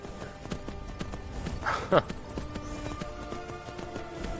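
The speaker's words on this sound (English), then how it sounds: "And having a horse is the easiest way to cheese travel." Horse hooves in Skyrim VR clop in a quick, uneven rhythm at moderate volume, with a short louder burst around the middle, over a faint background.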